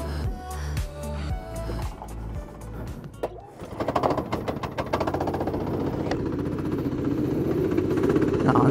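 Go-kart with a 390 engine on a sport chassis at a Jovikart Cup race meeting in February, the engine note climbing and settling into a loud, steady buzzing drone after a brief dip in the first seconds.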